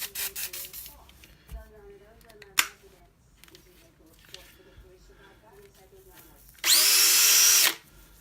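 A power tool fitted with a WD-40-drenched scotch pad polishes a metal surface, giving a loud, steady buzzing whir of about a second near the end, with scattered handling clatter and rubbing before it.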